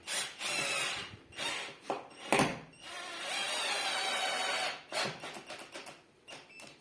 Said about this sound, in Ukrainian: А якщо далі поставити, то він буде просаджувати шуруп глибше.